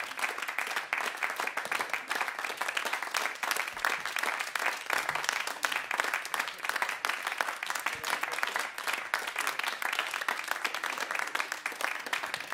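Enthusiastic audience applause fills the end of a jazz concert, dense steady clapping from a sizable crowd sustained for over twelve seconds without letting up.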